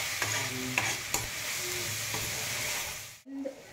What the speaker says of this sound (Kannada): ಧನ್ಯ ಪೌಡ್ರ್ ಹಾಕ್ತೀನಿ, ಮಿಕ್ಸ್ ಮಾಡ್ಕೊಳ್ಳೋಣ